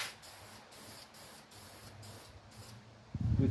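Aerosol spray paint hisses onto a 1951 Chevy truck engine in short repeated bursts with brief gaps, close and steady, followed by a louder low thump at the end.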